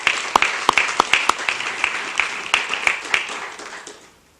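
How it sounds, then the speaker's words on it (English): Audience applause for the Freeholder Vice President at an Irish celebration before a St. Patrick's Parade segment, loud crisp nearby claps in a quick uneven rhythm that thins and fades out at the end. "Let's give him another round of applause."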